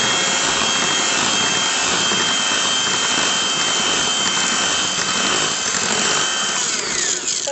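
An electric mixer whirs continuously and loudly through mango cake batter with mango pulp, a steady high buzzing drone with no pauses.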